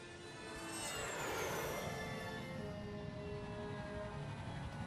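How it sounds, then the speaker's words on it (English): Jet aircraft in Psychonauts spooling up and taking off, a rising whine with a sweeping high tone over a broad steady roar that swells in the first second and then holds, no talking. "We're taking the jet."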